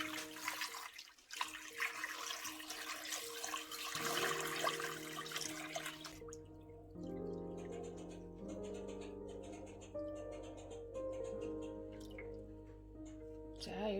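Tap water gushes into a cooking pot for bone broth, first a broad rushing spray, then a steadier pour whose ringing pitch rises as the pot fills.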